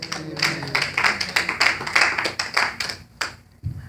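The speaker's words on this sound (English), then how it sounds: "Give God a round of applause." Church congregation clapping in a quick, uneven burst of individual hand claps, close and fairly loud, tapering off near the end.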